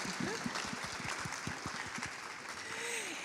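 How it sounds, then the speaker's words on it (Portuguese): Audience applause for poet Conceição Evaristo at a museum event, a moderate wash of clapping with a few distinct individual claps near the front and brief voices mixed in. "Eu vou pedir pela terceira vez uma salva de palmas para a Conceição Evaristo"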